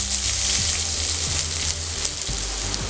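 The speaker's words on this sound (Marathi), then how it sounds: "कांदा चांगला परतून घेऊया। फुल गॅसवरतीच आपण कांदा परतून घेणार आहोत।" Chopped onion sizzles in hot oil over a full gas flame as a steady, loud hiss, with a low tonal hum running beneath it.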